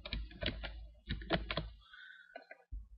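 Quiet clicking on a computer keyboard in two short runs of keystrokes, close by, with a brief pause and a few soft taps at the end.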